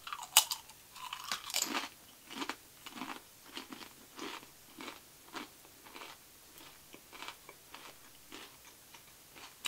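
Someone crunches veggie kale, carrot and spinach dipping chips up close, with a steady run of crisp bites and chews repeating every half second or so. The crunching is quiet and alone, with no talk.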